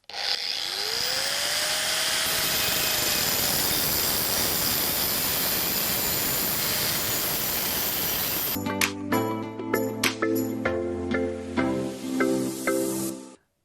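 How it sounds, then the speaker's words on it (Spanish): Copper tube being cut with a power tool, a steady loud grinding whine for most of the clip, followed by a series of short knocks and tool clatter as the cut ends. "vamos a ir cortando el trozo de tubo de cobre que"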